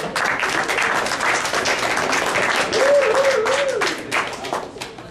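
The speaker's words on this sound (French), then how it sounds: "Toujours, je vais applaudir." An audience at a Twitter meetup applauds, steady crowd clapping heard under a voice speaking, with a brief whistle partway through.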